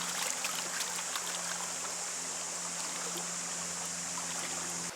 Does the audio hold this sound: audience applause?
no